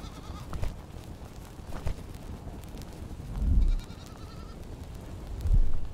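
Goats bleat in the survival crafting game Fountain of Youth, a few short calls heard alone at moderate loudness, the clearest two near the middle and at the end against low background game ambience.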